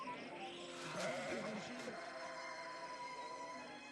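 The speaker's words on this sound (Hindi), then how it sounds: "कुछ चरवाहे रात के समय अपनी भेड़ों की देखभाल कर रहे थे" Sheep bleat in a pastoral night scene where shepherds tend their flock, the calls rising over a continuous bed of background music, moderately loud and wavering for a few seconds.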